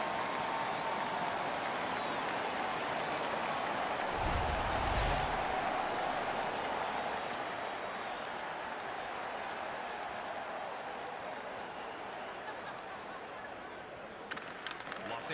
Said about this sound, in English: The crowd is all over them right now.